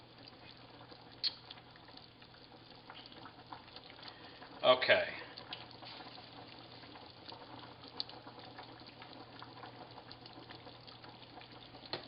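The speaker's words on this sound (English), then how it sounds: "see, this I have even turned way down and it's still bubbling like that." Chicken curry in a thin, creamy-bound sauce keeps bubbling in a pot even with the heat turned way down, giving a soft, steady simmering texture with a brief louder burst midway while a person talks nearby.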